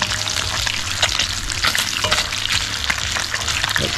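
Crumbed sand whiting fillets fry in a pan with a loud, steady sizzle and crackle that fills the whole stretch, with no talking over it.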